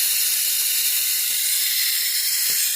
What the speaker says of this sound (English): Now you may hear this air compressor turn on